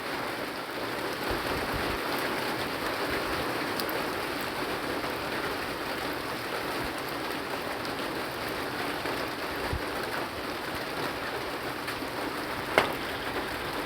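Steady rain pours down in a dense, continuous hiss, with one sharper drip or tap near the end and no talking.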